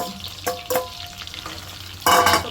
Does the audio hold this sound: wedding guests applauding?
no